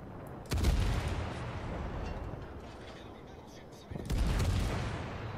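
Naval gunfire in World of Warships, two heavy booming salvos about three and a half seconds apart over a constant low rumble of game ambience.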